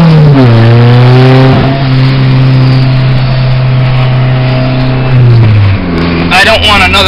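Engine of a turbocharged 1992 Honda Accord coupe while driving, a loud steady drone with rising and falling pitch as it accelerates and shifts, continuous for the whole stretch, with a brief change in tone near the end.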